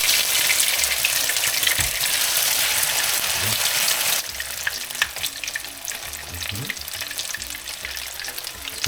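Eggs frying in a batch of hot cooking oil, a loud steady crackling sizzle throughout that eases slightly partway through, with faint clinks of utensils and no talking.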